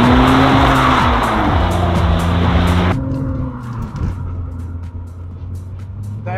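Race car engine under heavy throttle with tires squealing and skidding, loud and close; the roar drops sharply midway as the car eases off, with squeal continuing faintly over a steady lower engine note.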